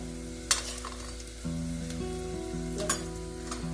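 Turmeric, coriander powder and red chilli powder being sautéed with chopped colocasia leaves in a pan, a steady soft sizzle with a few sharp stirring scrapes and clinks of a utensil, close and alone.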